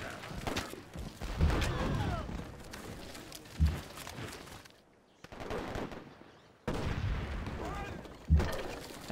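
Gunfire from units attacking a cannon in the Civilization V: Brave New World Civil War scenario, several bursts of volleyed shots and rattling fire with booming impacts, separated by brief quieter gaps.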